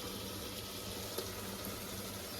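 Ginger-garlic paste hisses in a hot pan while cooking mutton gravy, giving a steady, even sizzle with a faint crackle that holds at a moderate level throughout, with no voices.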